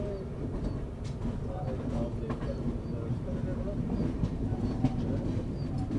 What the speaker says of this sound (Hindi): तो इसी हम लोग अप्रोच कर रहे हैं श्री माता वैष्णो देवी कटरा रेलवे स्टेशन।